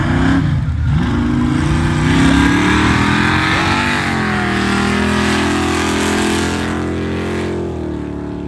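Drag racing cars launch down a strip in a hard rainstorm, a loud sustained roar of revving engines rising and then slowly fading as they pull away, with no talk.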